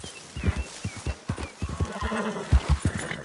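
A horse in Red Dead Redemption II whinnies while its hooves clip-clop in a quick, uneven rhythm. The sound is close and moderately loud, with no talk over it.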